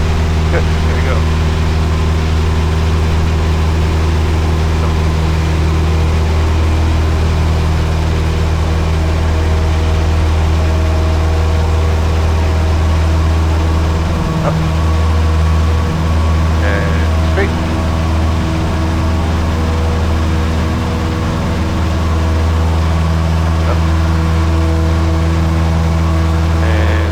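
Cessna 172S single-engine piston aircraft held on the brakes at full power before the takeoff roll, a loud steady droning engine hum filling the cabin throughout, with voices talking over it.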